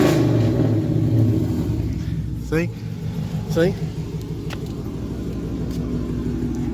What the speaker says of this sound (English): I'll rev it a little bit for y'all, so I ain't holding out on y'all because it sounds deeper.